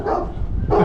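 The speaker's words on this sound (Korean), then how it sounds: "저기 댕댕이 자고 있다." A dog barks twice in quick succession on a walking route in Portugal, loud and close, with nothing else heard.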